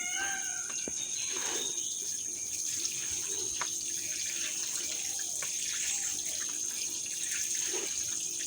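Water running steadily from a tap into a container for watering fertilized chili plants, a constant splashing stream with faint outdoor sounds and a few soft knocks, no speech.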